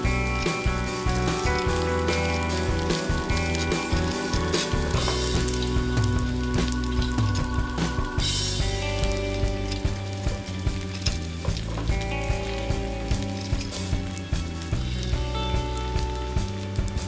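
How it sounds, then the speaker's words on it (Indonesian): Vegetable-filled risoles deep-frying in hot oil over medium-low heat, a steady, dense sizzle and crackle of bubbling oil that carries on evenly throughout, close and fairly loud with no talking. "Setelah minyaknya udah panas, langsung kita goreng risolnya."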